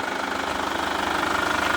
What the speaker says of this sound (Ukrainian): Двигунчик просто шепче. Працює може навіть краще, ніж швейцарський годинник.